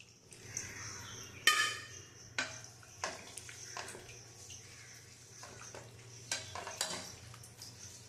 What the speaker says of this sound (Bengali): জল দিয়ে আমি ব্যাটারটা তৈরি করে নিচ্ছি।